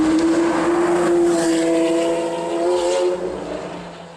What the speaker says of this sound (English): the Lambo to maneuver around him and speed off